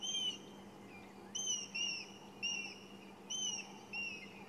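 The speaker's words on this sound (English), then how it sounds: "Hear the frantic whistles of the grey hornbills." Grey hornbills give repeated high, piping whistles in the bush on a sunrise safari drive in Sabi Sand, coming in several short bursts over a low steady hum.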